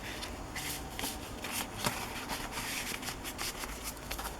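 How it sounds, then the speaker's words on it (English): Large cards slide into an envelope made from a book page, giving close, quiet papery rubbing and rustling in quick bursts with a few soft taps. "This is a large envelope made out of a book page, so I put a large card inside."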